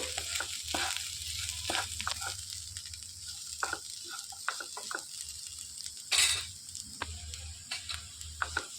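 Cluster bean fry being stirred in a pan on the stove, with soft scraping and light ratcheting clicks of the spoon over a low sizzle, including one sharper scrape partway through.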